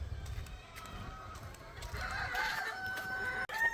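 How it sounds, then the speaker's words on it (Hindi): Chickens and a rooster in a yard as they are let out, with dense clucking and squawking building into a loud crow near the end, close and busy, with no speech. "भाई लोग चलो आप लोग को खोल के दिखाते हैं अपनी मुर्गी को बाहर बाग में।"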